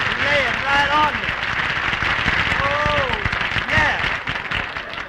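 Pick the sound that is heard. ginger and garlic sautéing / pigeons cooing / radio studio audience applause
radio studio audience applause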